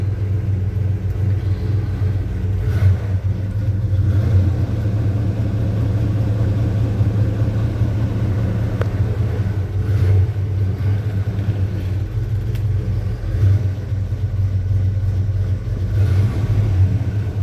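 A 1984 Chevy C10 pickup engine runs steadily at idle, a loud, close, continuous low rumble with a few slight swells in revs and no talking.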